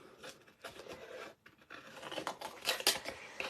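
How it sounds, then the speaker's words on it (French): Scissors cutting paper for an origami photo album card, a series of crisp snips and rustling slides of the blades, irregular and close, with a brief pause midway and louder cuts toward the end. "Sa paire de ciseaux. Et on va découper ça."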